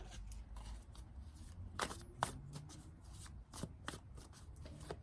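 Tarot cards are shuffled by hand, giving a soft, close run of riffling flicks and light taps with a few sharper snaps, in a quiet room without talk.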